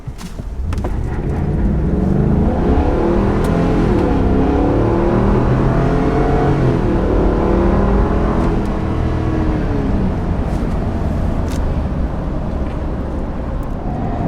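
A 2022 Ford pickup truck engine revs up hard and accelerates steadily from 0 to 60, loud and close, the pitch climbing through gear changes over a sustained run.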